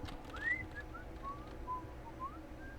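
A person whistling softly, a string of short thin sliding notes and brief tones spaced irregularly over a low background hum, faint and fairly close.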